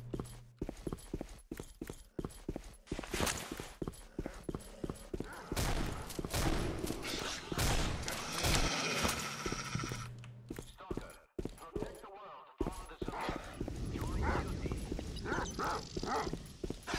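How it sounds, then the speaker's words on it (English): Dogs bark and snarl in the video game STALKER: Shadow of Chernobyl, repeated sharp calls buried in dense, loud game noise with clattering and rapid bursts throughout. "Those are dogs."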